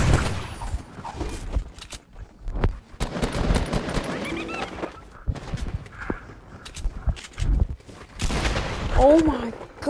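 Automatic gunfire in a multiplayer shooter game rattles in rapid, dense bursts throughout, with players talking excitedly and shouting over it.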